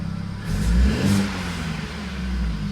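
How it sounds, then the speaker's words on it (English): A BMW Z4 with a swapped engine, after a boost leak fix, revs up briefly, swelling to a throaty roar before settling back to a steady idle hum. "Let's give it a nice rev."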